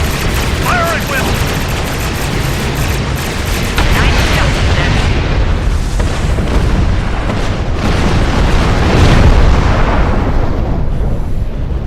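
Starship weapons fire and explosions in Star Trek Online, loud and continuous, with booming blasts and rapid bursts layered into a dense roar, while voices speak over the battle.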